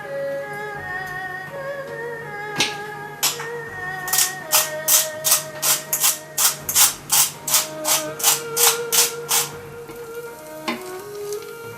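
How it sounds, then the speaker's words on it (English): Eggs whisked with salt and pepper in a bowl, giving a quick run of regular, evenly spaced scraping strokes over soft background music. "Next, we will whisk the eggs with a bit of salt and pepper."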